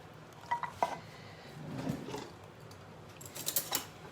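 Onions, green peppers and sauce being stirred together in a bowl, with a few sharp clinks of the utensil against the dish and a soft, wet scraping swirl in the middle, close and fairly quiet.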